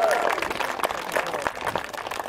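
A church congregation at a fairy-tale session claps and cheers for a young female volunteer, a dense, steady patter of applause with scattered whoops, fairly close.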